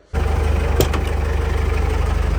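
A tractor engine starts up and then runs while driving, with a loud, close, low throb that pulses rapidly and evenly, and one brief knock near the start of the run; nobody speaks.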